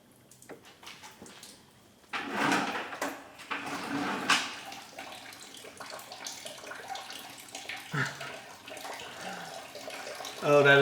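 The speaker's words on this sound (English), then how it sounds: "Coolant did come out, but it came out the drain side." Coolant from an Acura Legend coupe's drain spills and splashes out in a running liquid stream, steady and close, with a louder gush near the end and a person speaking nearby.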